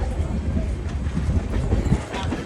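A train rumbles and rattles at Dwarka railway station in a steady, clattering roar heard from close by, with voices mixed into the noise.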